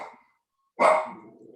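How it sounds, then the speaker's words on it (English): A small dog indoors gives a faint short yip, then a single sharper, louder bark, near and alone with no talk. "sorry, we have a little dog."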